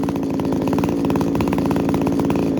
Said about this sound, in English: Obviously you can hear it idling.